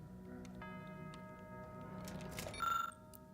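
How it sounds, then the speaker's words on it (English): A safe's combination dial in the game The Outer Worlds 2 turns with soft ticking, then lands on a single brighter click with a short ringing chime, quiet and close, with no voices. "Turn the next dial and hear the same click again."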